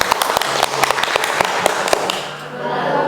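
Audience clapping at a sales-mindset seminar, a quick burst of sharp, uneven hand claps that thins out and fades after about two seconds, fairly close and loud with no talk over it.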